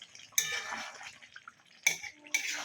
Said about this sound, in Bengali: আলুগুলো দিয়ে একটু ভালো করে নাড়িয়ে নিচ্ছি।